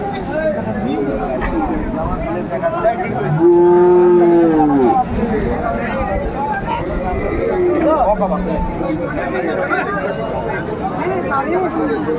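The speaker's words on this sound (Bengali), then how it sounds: "সুন্দর একটি ষাঁড় বাচ্চা আমরা দেখছিলাম।" A bull calf and other cattle at a cattle market in Ambari, with one loud, drawn-out moo in the middle and a shorter, fainter low call later, heard under constant crowd chatter and nearby talking.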